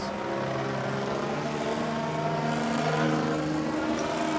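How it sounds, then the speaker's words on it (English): A 40% scale Extreme Flight Slick 580 RC aerobatic plane powered by a DA-170 gas engine on a Pipe setup drones steadily overhead, its buzzing engine note holding fairly even with slight swells, no voices over it. "Jase is flying this aircraft on a Pipe DA-170, which is a great setup"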